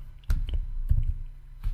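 A few separate, sharp key clicks from a computer keyboard while HTML code is being typed, irregularly spaced and fairly close, with no talking.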